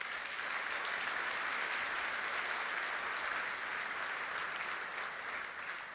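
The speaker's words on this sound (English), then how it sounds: "Give yourselves a round of applause" Audience applause at a general session, a steady dense wash of clapping that holds at an even level from start to finish with no voices standing out.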